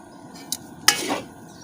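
A spoon stirring capsicum masala rice in a metal pan: a quick scrape, then a sharp clatter against the pan and a short scraping swirl, close and fairly loud, with no voices.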